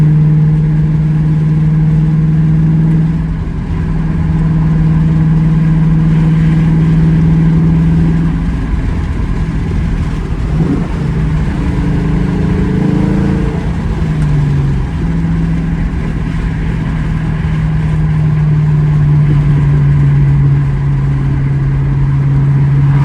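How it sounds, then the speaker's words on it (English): A Ford Mustang GT idles with a deep, steady exhaust rumble, rising briefly in a couple of short revs near the middle before settling back to a constant loud burble, heard close and alone. "I will give you a little bit of the exhaust."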